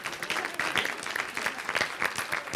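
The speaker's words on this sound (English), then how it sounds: "Round of applause." A class of students breaks into steady applause, many hands clapping together at moderate volume for a couple of seconds.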